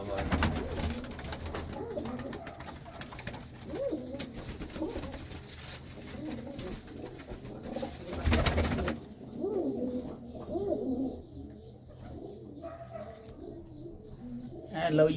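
Pigeons coo repeatedly in a loft, soft throaty calls rising and falling near at hand, with someone talking through much of it and a brief louder burst of noise partway.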